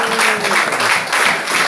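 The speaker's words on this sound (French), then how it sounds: "applaudissez pour le Seigneur." A church congregation bursts into loud, dense applause, a close and continuous wash of clapping for under two seconds.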